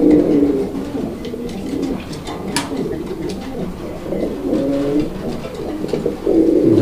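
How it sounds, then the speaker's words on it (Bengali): Pigeons coo in deep, rolling, repeated calls that are close and fairly loud, heard over soft background noise and faint talk. "দেখছেন যে ডাকটা দেখাই দিলাম, ডাকের জন্য কবুতরটা দেখাই দিলাম।"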